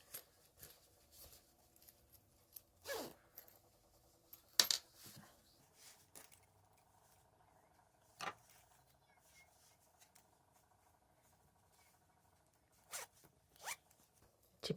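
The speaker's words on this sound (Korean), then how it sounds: "지퍼도 부드럽게 열고 닫혀지네요." A small zipper on a handmade traditional-style card and coin wallet is slid open and closed, producing quiet, close zip runs and soft fabric handling clicks spread across a mostly hushed background.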